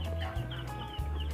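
Chickens cluck inside a small 1-by-1-metre backyard coop, their calls steady and fairly close over a constant low hum, with no voices.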